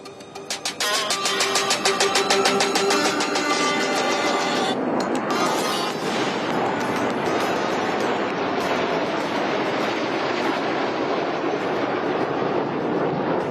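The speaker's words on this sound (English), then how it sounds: "Today, the Embraer is being escorted by 2 Sukhoi 30 MKIs and 2 MiG-29 aircraft." Military jets fly past at the Aero India 2023 airshow in Bengaluru, where an Embraer was escorted by Sukhoi Su-30 MKIs and MiG-29s. A loud, continuous roar swells in and holds steady for over ten seconds, with no talking.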